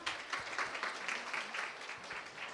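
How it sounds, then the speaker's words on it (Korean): Welcoming applause greets a lecturer taking the stage, a brief, fairly faint burst of clapping from a small audience. "큰 박수 부탁드립니다"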